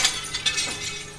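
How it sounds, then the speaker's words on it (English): Window glass shattering as a sound effect in a suspense drama: one sharp crash with scattered tinkling fragments, loud and close, heard alone without any talk. "Suddenly, a sound of breaking glass ended the silence."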